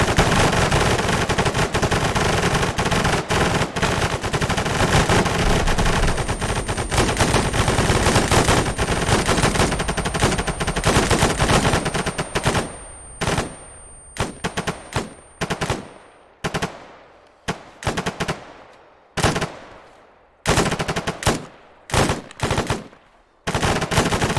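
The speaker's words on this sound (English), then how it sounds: "feel free to shoot a few rounds" A machine gun fires in a video game weapon test on a range: a dense, continuous, loud stream of rounds for about half the time, then breaking into separate short bursts with brief gaps between them.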